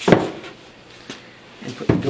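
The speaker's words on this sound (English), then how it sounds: "put the door onto the hinges" Wooden kitchen cabinet door being fitted onto opened hinges during base cabinet assembly: a sharp knock at the start, a lighter tap midway and a louder clunk at the end, close by.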